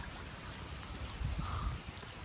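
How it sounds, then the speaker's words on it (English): Light rain falls outdoors beside an old stacked-stone arch in New England, a steady soft hiss of drops with low patters and a few brief brighter ticks, close and fairly quiet, with no voices. "It's not raining too bad. It's a very light rain."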